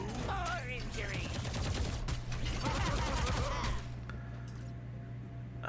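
Gunfire in a turn-based tactics video game, a loud burst of rapid shots with mechanical clatter for about four seconds, followed by quieter game ambience.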